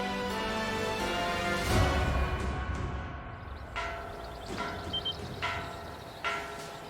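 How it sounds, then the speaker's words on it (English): A warning bell rings in the Ys X: Nordics video game during a naval battle, a resonant bell strike with long ringing decay followed by several fainter repeated tones over a dense game soundscape. "The warning bell."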